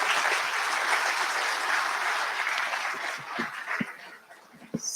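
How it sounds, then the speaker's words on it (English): Audience applause for the panelists at a climate conference, a sustained broad clapping that holds steady and then thins out toward the end, with a few louder individual claps. "A round of applause, please, for the panelists."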